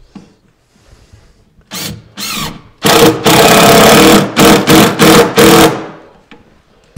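A power drill drives square drive screws into upper cabinets in loud, close bursts: two short pulses, then a long whirring run broken into several quick stuttering spurts before stopping.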